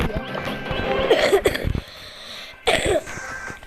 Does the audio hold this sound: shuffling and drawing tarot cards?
no